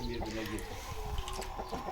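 On a farm, chickens and a rooster give short, overlapping clucks and squawks at close range, with a little noise from people moving around them.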